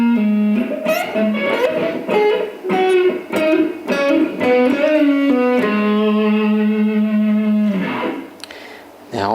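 An electric guitar with distortion slowly plays a blues lick, a string of bent and pulled-off notes ending on a long sustained tone that decays.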